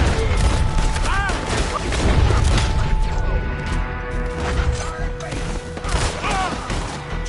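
Gunfire in a Red Dead Redemption shootout, with dense overlapping shots, booms and clanks in a continuous loud battle mix, punctuated by shouting game voices.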